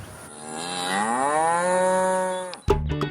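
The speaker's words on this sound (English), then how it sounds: "So let's start with the cows." A cow on a small dairy farm practising zero grazing gives one long, loud, rising moo that carries close and clear, then cuts off abruptly into a brief burst of other noise.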